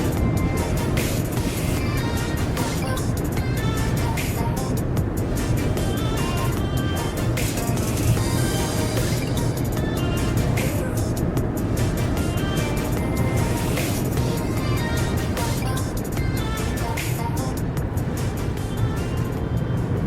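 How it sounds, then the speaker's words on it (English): A NIO EL7 electric car cruising at about 200 km/h on the German Autobahn gives a steady, fairly loud cabin roar of wind and tyre noise, constant with no breaks. "while we're driving now in the car about 200 kilometers per hour on the German Autobahn"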